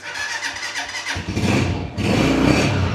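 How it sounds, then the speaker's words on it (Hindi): A 2025 Crown CR 125 motorcycle with self start: faint ticking pulses from the electric starter cranking, then the engine catches after about a second and settles into a loud, steady running note close by. "चलिए हम इसे एक दफ़ा स्टार्ट करके देखते हैं सेल्फ से स्टार्ट भी होता है कि नहीं।"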